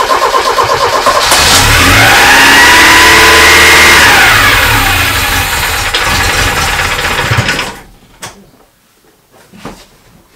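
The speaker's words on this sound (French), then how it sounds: "Je vais la faire tourner un peu à vide pour que la pression d'huile monte et après je vais la démarrer." A Peugeot 104 engine cranks and fires, then runs loud and close with a steady idle for several seconds before cutting out abruptly, leaving a few faint knocks.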